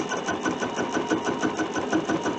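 Quilting machine stitching an edge-to-edge quilt, a steady rapid mechanical whir with even rhythmic pulses, close and continuous with no voices.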